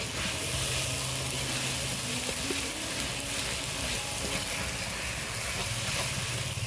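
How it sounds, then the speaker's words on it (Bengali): Masala spices fry in a pan with a steady, close sizzle and hiss that runs unbroken throughout, moderately loud, with a faint low hum beneath. "তো মশলাটা দিয়ে দিয়েছি, এখন একটু ফ্রাই হচ্ছে, জিনিসটা ফ্রাই।"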